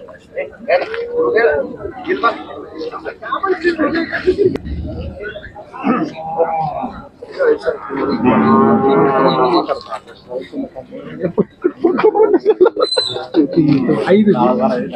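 Large Khillar cattle low and moo at a busy Sangola cattle market, several long calls near and loud amid crowd noise and people talking.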